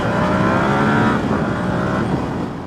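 A Yamaha YZF R7 motorcycle pulls hard at full throttle, its engine note rising loudly through the revs, then easing off as a shift or roll-off tails into steady wind-backed engine drone, close and alone.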